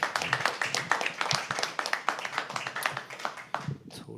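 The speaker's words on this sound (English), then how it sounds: "So can we please have another round of applause?" An open mic poetry audience gives a round of applause, a steady patter of moderately distant clapping that continues for about four seconds before tapering off.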